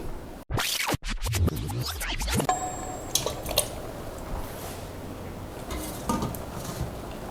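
Potatoes are mashed in a pot, with a few loud scraping, squishing strokes at the start, then softer wet, sticky sounds and light drips that continue alone.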